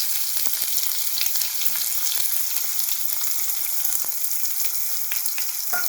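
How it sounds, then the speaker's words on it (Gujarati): A medium chopped onion hits hot oil and spices for a cucumber paratha, giving a loud, continuous sizzle close by with scattered pops and crackles throughout, no voices. "હવે આપણે એક મીડિયમ સાઇઝની કાપેલી ડુંગળી એડ કરી દઈશું આમાં"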